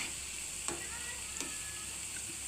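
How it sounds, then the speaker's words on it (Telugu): Cauliflower pieces coated in cornflour fry in hot oil until brown and crispy, giving a steady, fairly quiet sizzle with a couple of soft stirring taps. "ఇలా మనం బ్రౌన్ కలర్ వచ్చేలా వేయించుకోవాలి"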